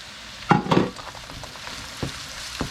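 Noodles drop into a hot pan with a loud sizzling burst, then a quieter steady frying hiss follows, with a couple of scraping stir strokes near the end.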